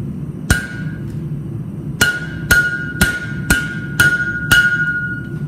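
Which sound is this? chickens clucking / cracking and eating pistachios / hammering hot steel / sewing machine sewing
hammering hot steel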